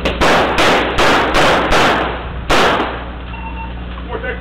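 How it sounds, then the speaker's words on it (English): A rapid burst of close, loud gunshots rings out during a police confrontation in a village, about seven sharp reports in quick succession before fading into background noise. "413, shots fired, 400 West Village."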